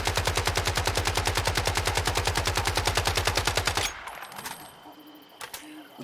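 Assault rifle in Once Human firing a rapid full-auto burst of about forty evenly spaced loud shots for roughly four seconds, then stopping abruptly, leaving faint clicks and quiet game ambience.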